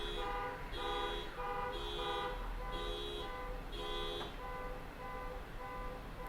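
Car alarms on a street sound off with a repeating electronic pattern of rising and falling beeps in regular bursts, heard from a distance behind steady background noise.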